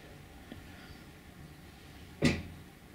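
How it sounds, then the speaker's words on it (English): A single knock on a door, one sharp, fairly loud thud standing out against a quiet room background, with a faint tap heard earlier. "there's a guy knocking on the door"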